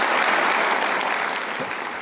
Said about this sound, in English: How about a round of applause for our new friend, Dr. David Berlinski